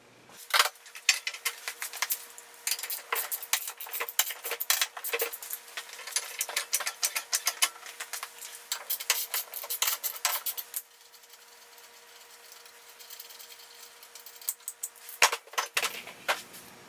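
Metal tools clink and rattle close by as a wheel comes off a lifted four-wheeler. The jangling clatter is dense and busy, briefly thins to a quieter hiss, then picks up again with a few sharp hits.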